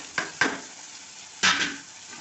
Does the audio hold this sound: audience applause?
no